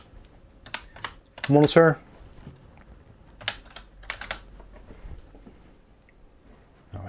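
Computer keyboard typing during a search in a Windows menu, a few quick bursts of key taps under and between a man's speech, close and moderately loud.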